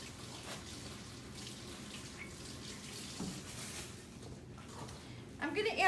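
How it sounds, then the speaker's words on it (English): Tap water runs steadily into a kitchen sink as hands are washed while making scones, a continuous soft, faint splash with a brief louder burst of splashing at the end. "Let me wash my hands."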